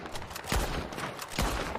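Two gunshots ring out from a gun in the video game Horizon Zero Dawn, each a sharp blast about a second apart, heard in game audio with no talking.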